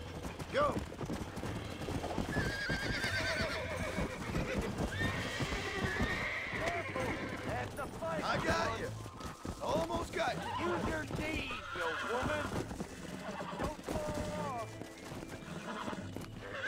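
Horses in the Western game Red Dead Redemption neigh and whinny repeatedly over continuous galloping hooves, loud and busy throughout, with characters talking over them.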